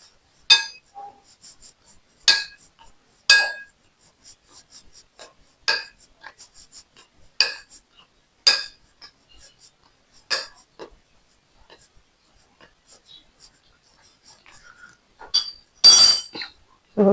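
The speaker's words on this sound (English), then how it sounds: "So we mix the dry ingredients together." Dry pizza dough ingredients being mixed in a bowl, with a steady series of sharp clinks and scrapes of a utensil against the bowl at irregular intervals, close and fairly loud.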